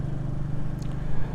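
Road traffic near Lake Erlauf, Austria: a steady, close engine drone of cars moving past, continuous across the whole moment with no voices.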